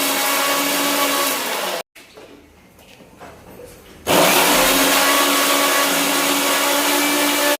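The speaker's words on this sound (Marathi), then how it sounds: "त्यामध्ये घेऊयात आपण मिरची, वाटण करून घेऊयात." A kitchen mixer grinder whirs loudly as it grinds coconut and green chili into a paste, running in two bursts separated by a short quieter pause.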